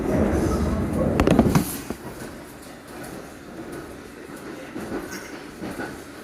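A semi-fast Metropolitan line train rumbles loudly at first, heard from between the carriages, then settles into a quieter rolling drone with scattered clicks and rattles from the wheels.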